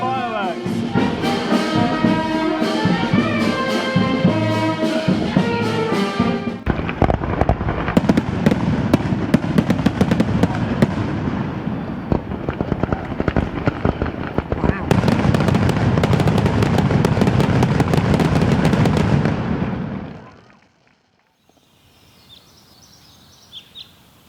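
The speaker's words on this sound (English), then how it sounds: "We're all off down to see the fireworks." Fireworks at a traditional Spanish fiesta crackle and bang in a dense, continuous barrage, loud and close, with music at first and then a crowd, before fading to quiet at the end.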